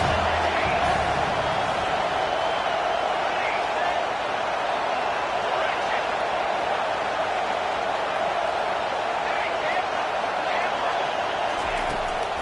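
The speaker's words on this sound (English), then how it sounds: "Big third down as the crowd gets behind this defense" A football video game stadium crowd roars steadily on a big third down, dense continuous cheering with no breaks.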